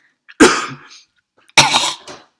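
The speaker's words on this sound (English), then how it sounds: "We got a lot of coughs." Two loud, close coughing fits, each a harsh burst trailing off, separated by a short silence.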